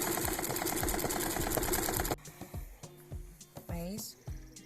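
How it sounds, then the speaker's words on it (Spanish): A sewing machine stitches bag seams with a fast, steady whir for about two seconds, then stops, followed by softer handling noises while someone talks. "Ya tenemos nuestra máquina enhebrada y"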